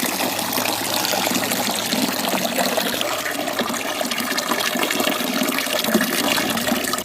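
Fresh watermelon juice pours steadily into a vessel, a loud, continuous close-up rush of liquid lasting throughout with a slightly rising, filling tone.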